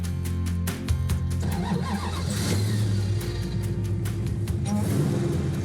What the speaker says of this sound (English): getting ready to take out the Superbird with the Hellcat engine for the first time. Let's give it a start.